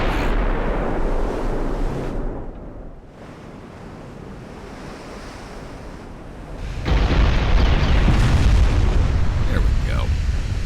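Naval gunfire and shell explosions from the warship battle game Ultimate Admiral: Dreadnoughts, heard as a steady rumbling roar of booms and splashes that swells louder partway through, with someone talking briefly over it.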